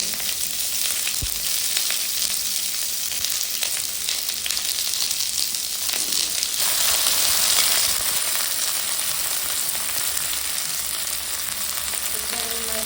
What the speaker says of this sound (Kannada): ಫ್ರೈ ಮಾಡಬೇಕು.